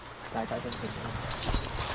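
Horse hooves clip-clop on a farm plantation, a quick run of hoof strikes heard close under steady conversation between people.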